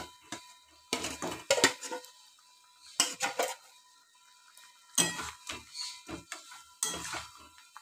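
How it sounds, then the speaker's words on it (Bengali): Chicken pieces going into a hot cooking pot for a murgh monohara curry made without oil, heard as four bursts of clattering metal and pot knocks with short quiet gaps between them. "এবার আমি চিকেনটা ঢেলে আস্তে আস্তে ঢালছি"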